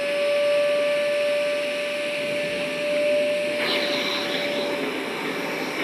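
A ZeroG floating vacuum cleaner switched on and running, giving a steady motor whine with a sustained high tone and a constant airy hum, close by with no talk.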